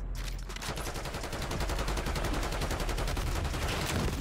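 Rapid automatic gunfire in the Black Ops 6 video game during a Hardpoint match, a dense and steady burst of shots with a sustained even rhythm that stays loud throughout.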